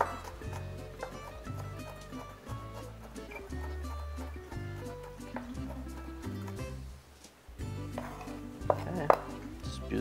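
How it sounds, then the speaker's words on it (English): A knife chops tomato sauce vegetables finely on a board, with repeated rhythmic thuds and clacks over steady background music. "We're gonna give a little bit more chop here so it'll be more fine."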